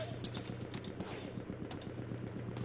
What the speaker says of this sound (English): Seeing that gunfire.